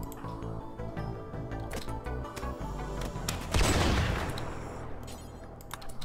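Rapid gunfire in the Rimworld colony game, a long ragged run of sharp close shots and bursts, swelling into a heavier blast burst midway before trailing back into scattered shots.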